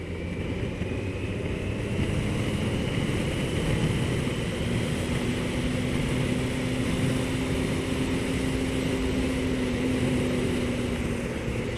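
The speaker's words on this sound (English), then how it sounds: "So off the throttle, and you can hear the bike is naturally slowing down." Motorbike coasting off the throttle on a road, its engine note steady and slowly easing down under heavy wind rush, continuous and fairly loud throughout.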